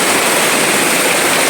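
Heavy rain pours down in a steady, dense roar, loud and close, with no break and no voices over it.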